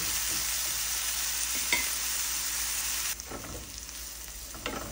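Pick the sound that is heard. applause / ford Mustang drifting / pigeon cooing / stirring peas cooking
stirring peas cooking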